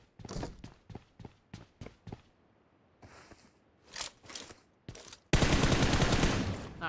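Video game gunfire during an apartment fight. A rapid run of sharp single shots comes first, then scattered bursts, and finally a sustained loud roar of automatic fire, all close and harsh.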